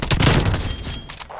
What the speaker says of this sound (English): All you hear is shotguns.